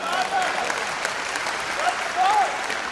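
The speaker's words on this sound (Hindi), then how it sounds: "तालियां बजे तो इतनी जमके कि कवि को जोश आ जाए" Audience applause at a Hindi poetry recital (kavi sammelan) at the Mahakumbh, a steady broadband clapping wash lasting about three seconds with a slight swell near the end.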